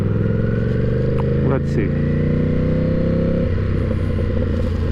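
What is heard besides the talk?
Ducati 1000cc motorcycle engine revving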